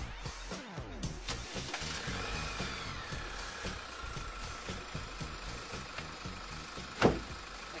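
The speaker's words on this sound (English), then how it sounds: "We'll have to go back and start the engine." A car engine cranks, catches and then idles with a low steady rumble during a sand recovery outdoors, with a sharp clunk about a second before the end.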